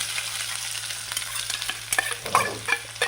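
Chopped onion stirred into hot oil with popped mustard seeds in a pan for a Kerala-style spring onion thoran, a low sizzle with scraping stir strokes and clinks growing busier toward the end.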